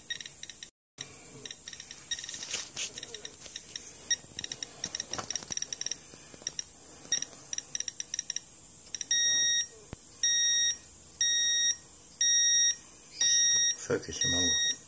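Radiation detector alarm sounding near a radium-painted luminescent bomber aircraft clock, giving a run of short, evenly spaced electronic beeps that grow more frequent toward the end, heard close over faint background noise and some handling.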